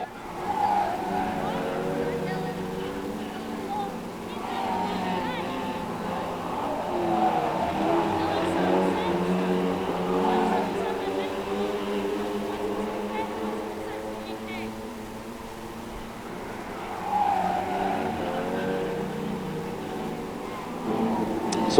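Pro stock race cars roar around the oval at Cowdenbeath Racewall, engines rising and falling as they pass in a near-continuous drone, with a commentator talking over the racing.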